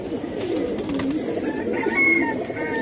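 Giribaz pigeons coo at close range, a low throaty rolling murmur running through the whole moment, with a few brighter bird calls rising above it and faint background activity.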